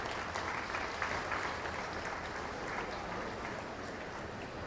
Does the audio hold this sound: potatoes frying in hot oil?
no